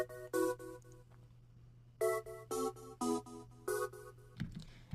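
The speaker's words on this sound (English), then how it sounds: "a pretty twinkly synth playing some major 7th chords" Twinkly synth patch built in Vital plays bright major seventh chords in short, clustered stabs over a steady low hum. It is close and clear, with short gaps between hits and no speech.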